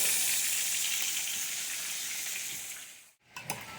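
Brussels sprouts fry in a pan with a close, steady hissing sizzle that eases off, breaks briefly, then returns with a few light stirring clicks.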